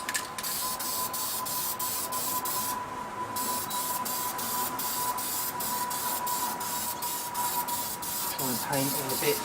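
Spray paint hisses steadily onto aluminium-coloured parts of a Yamaha XS650 cylinder head and rocker box in a shed, a close, continuous spray with faint regular ticking, and someone talks at times.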